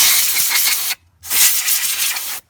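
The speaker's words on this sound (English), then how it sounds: "Compressed air" Compressed air blasts onto Toyota Corolla front brake parts in two strong hissing bursts separated by a brief pause, loud and close.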